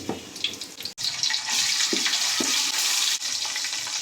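Garlic frying in a little oil in a pot gives a steady, bright sizzle that lasts the whole stretch, with a few soft low knocks from a utensil. There is no talk.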